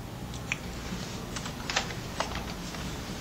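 Someone types on a computer keyboard: a few scattered, light key clicks tap at an irregular pace over quiet room tone, with no talking.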